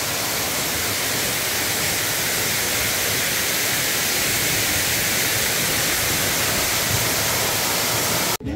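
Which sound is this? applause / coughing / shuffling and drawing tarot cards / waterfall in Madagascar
waterfall in Madagascar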